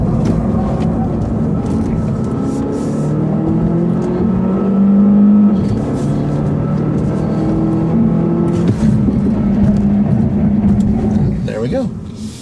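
A Volvo S60 T6 accelerates hard from a standstill to 60 mph as traction control intervenes. The engine note climbs loud and steady from inside the cabin, broken by gear shifts, with a voice faintly underneath.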